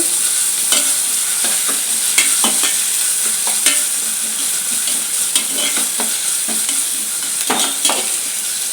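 Ginger garlic paste frying with onions in a pan, a loud steady sizzle close up, broken by repeated scraping stirs of a spoon through the mixture, no voices.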